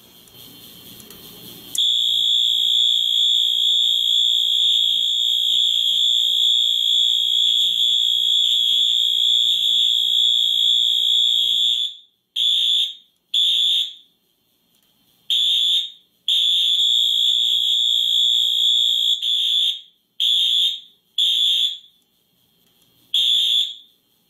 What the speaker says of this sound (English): I will reactivate the alarms with the drill button